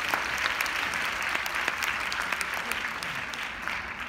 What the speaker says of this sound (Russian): И громкие аплодисменты Надежде за попытку в контакт.